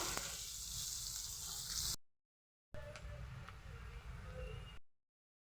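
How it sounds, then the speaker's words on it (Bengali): Onions frying in a pan for a prawn and potato curry make a soft sizzle with faint stirring scrapes, heard in two stretches separated by a short silence, with no voices. "পেঁয়াজটাকে ভেজে নেব পেঁয়াজটাকে আস্তে দিয়ে পেঁয়াজটাকে ভাজবো"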